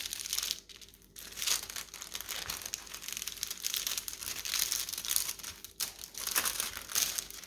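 Plastic film crinkling and crackling steadily while being smoothed flat over cross-stitch and diamond-painting canvases, close and fairly loud, with two brief pauses.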